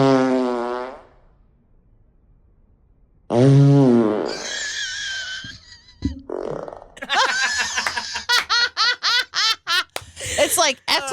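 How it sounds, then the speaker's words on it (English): A recorded fart sound played during a casual podcast conversation, a series of close, buzzy, sputtering bursts that trail off in a rapid rhythmic flutter, with people talking and laughing around it. "That's a good fart."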